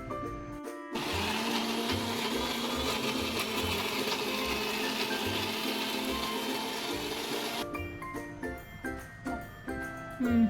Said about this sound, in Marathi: आता मिक्सरला लावून घेऊया।